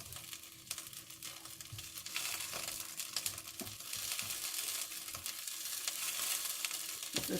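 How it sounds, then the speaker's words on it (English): Granola oats stirred in a pan through a melted honey and butter mix with almonds, giving a steady sizzle and soft scraping, close and continuous with no talk. "just keep stirring that around, coat it thoroughly in the honey and butter mix."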